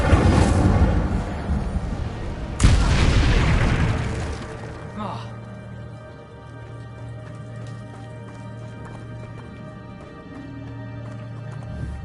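An Incendio fire spell in Hogwarts Legacy bursts with a loud whooshing blast that crackles and rumbles away, then a second burst, leaving a quieter game backdrop with a low hum.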